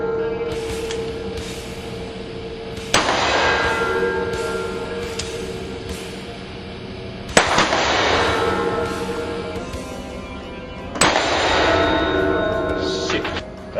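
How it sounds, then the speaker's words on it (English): Three loud, sharp Magnum revolver shots ring out a few seconds apart in the horror game Cry of Fear, each leaving a long reverberant tail over a steady low background hum. "this is a Magnum."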